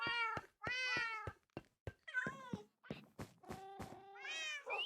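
Several Minecraft cats of different breeds meow in quick succession, a run of short, clear, fairly close mews with brief gaps and a few soft thunks between them.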